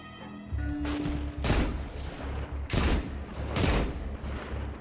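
Heavy gunfire from a weapon in the video game Destiny 2, three loud booming shot bursts spaced about a second apart over a steady droning game background.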